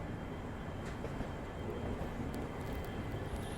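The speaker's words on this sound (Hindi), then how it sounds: "सामने देख लो वो डीजल लोकोमोटिव जो हम लोगों ने देखा था" A diesel locomotive shunts at a railway station, heard as a faint, distant, steady engine rumble with a continuous low drone.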